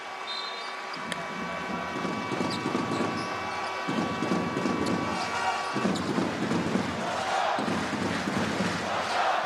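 Basketball crowd in an arena in Amman during a Jordan game, a loud continuous roar with swelling cheers and chanting that rises in waves throughout, with no clear commentary over it.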